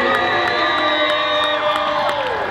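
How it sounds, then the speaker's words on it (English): A crowd at a Minecraft convention cheers and whoops loudly, a sustained roar of voices with rising and falling shouts that lasts throughout. "Give a big round of applause to our YouTube All-Stars!"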